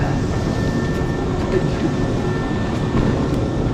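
Steady broadband rumble of a train standing at a station where passengers change lines, with a continuous low roar, a faint high whine and soft clanks throughout, no voices.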